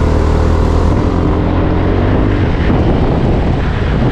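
Steady Bristol Maxi 400 motor scooter engine drone with heavy wind rushing across the microphone, continuous and loud throughout as if riding at speed on an expressway.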